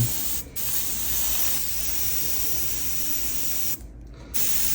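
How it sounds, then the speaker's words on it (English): Airbrush spraying paint onto a 3D printed figure, a steady close hiss of compressed air running almost throughout, with a brief dropout near the start and a short gap near the end. "I increase a little bit my air pressure so I'm ready to spray."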